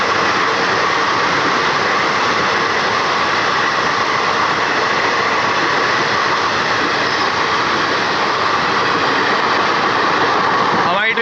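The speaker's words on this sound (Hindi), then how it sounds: "हमारी ट्रेन को ओवरटेक करते हुए बेगमपुरा एक्सप्रेस।" The Jammu Tawi–Varanasi Begampura Express overtakes the halted Mussoorie Express, a loud, close, continuous rumble of wheels and engine that holds steady throughout.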